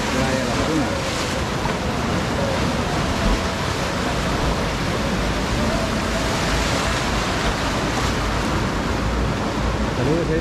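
Ocean surf rolls in at Playa La Laguna in El Salvador, a loud, continuous wash of breaking waves and wind noise that fills the whole stretch without pause.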